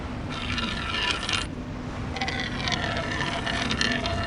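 A penny drops and clatters in the I Spy Treasure Hunt video game, making a run of rattling, jingling metallic bursts over steady background noise that settle and then rattle again.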